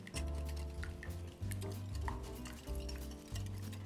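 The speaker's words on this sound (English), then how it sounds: "I've got an egg in a bowl up here and a little bit of milk. I'm gonna whisk that together." Egg and milk whisked together in a bowl, a steady rapid clatter of whisk against the bowl running continuously with a few brief pauses, close and fairly loud, with no talking.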